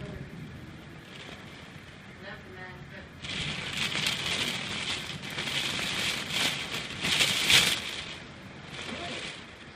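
Rain sets in again during a big windy storm, a soft hiss that swells into a loud broadband wash of rain and gusts, steady with brief louder bursts.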